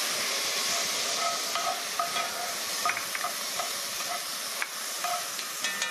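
Tomatoes are stirred into a pan of onions cooking without oil, giving a steady close hiss of steamy frying with scattered soft clicks and scrapes from the utensil.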